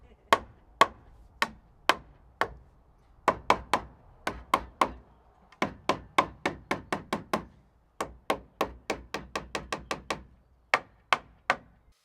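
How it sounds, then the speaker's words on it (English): Hammer driving nails into timber deck joists, toe-nailing them into the bearer: sharp, close knocks in quick bursts of several strikes with short pauses between, no talk. "I've just been going around and toe nailing each of these joists into the bearer with a nail"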